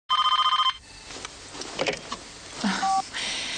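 Telephone ringing in the horror film Scream: a loud, rapid electronic ring pulses for under a second, then gives way to faint movement, muffled noise and a short tone amid background sounds.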